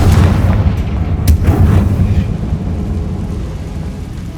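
A Confringo fire spell exploding in the Hogwarts Legacy video game, a loud, sustained booming blast with a dense low rumble that slowly fades over a few seconds.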